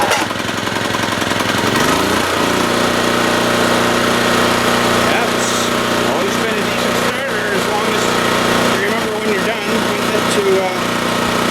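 Small pull-start gasoline engine with a choke, running loud and close in a rough, rattling steady drone after a brief start, with someone talking over it.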